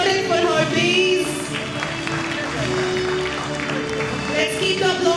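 An audience applauds at an awards ceremony, a sustained wash of clapping that stays fairly steady across the stretch, with voices mixed in.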